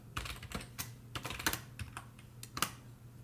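Python code being typed on a computer keyboard: irregular bursts of quick key clicks, some louder strikes, close up over a low steady hum, with no talking.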